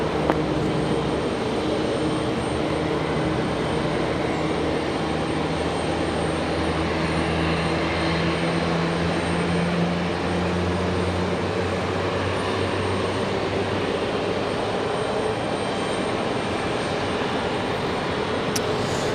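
An Embraer E175 airliner arriving from Toronto at Raleigh-Durham airport, a steady broadband jet roar with low engine drone holding throughout at moderate distance, no voices.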